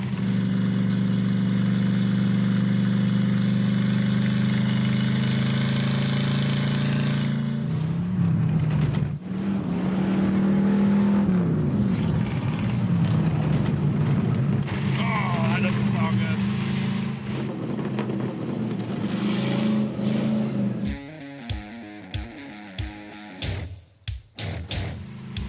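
A Peterson Chieftain's engine drones loud and steady with a strong low hum, then its pitch drops and shifts as the transmission changes gear automatically, breaking into choppier bursts near the end while people talk over it.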